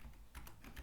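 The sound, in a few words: computer keyboard typing a new folder name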